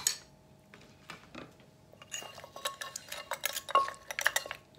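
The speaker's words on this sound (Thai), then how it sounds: "ตำเครื่องให้เข้ากันจ้ะ" Som tam ingredients pounded in a mortar for a blue crab papaya salad, a string of sharp knocks and clinks that start sparse and grow quicker and louder, close up with no talk.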